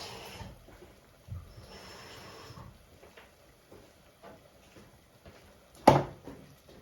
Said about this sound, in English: what I'm gonna do is I'm gonna fill up a little bit of water in the can.